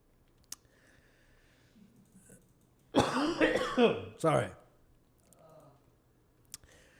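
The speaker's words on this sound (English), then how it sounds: "Sorry for coughing, everybody." A burst of harsh coughing and throat clearing up close, two bouts in quick succession, with a few faint clicks before and after.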